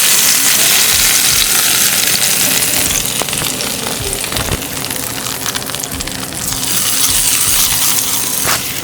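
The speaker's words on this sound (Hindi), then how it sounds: "तो अभी इस पे तड़का जाने लगा है" Steady, loud crackling sizzle of cumin seeds hitting hot oil, continuous throughout with dense popping and spitting, no voices.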